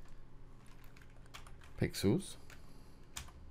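Computer keyboard typing comes as soft, close key taps clustered in a short burst, with someone speaking over it.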